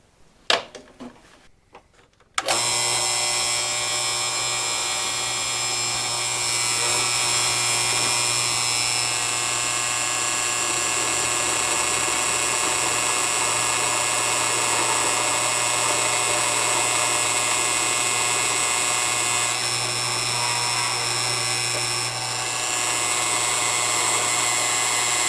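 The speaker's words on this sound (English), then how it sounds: "let's go clamp this in the drill press vise and put a hole in it" A drill press bores a hole through a metal bracket for a barn door track, a loud steady high-pitched whine with a constant hum that starts abruptly after brief handling noises and holds for the rest of the clip.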